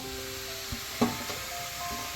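Chicken pieces sizzle quietly in hot oil in a pan for chicken pickle, a soft continuous frying hiss with a couple of faint clunks as pieces go in.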